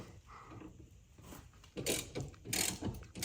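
Ratchet clicking as 10mm bolts come off the pedal bracket of a 2008-14 Subaru WRX; quiet, close bursts of ratcheting grow louder toward the end, with no talk.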